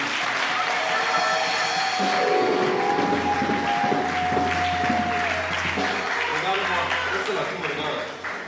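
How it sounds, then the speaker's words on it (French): Congregational applause during a French-language church service, a sustained clapping crowd with voices and tonal sounds layered over it, fading slightly toward the end. "Applaudis pour le Saint-Esprit."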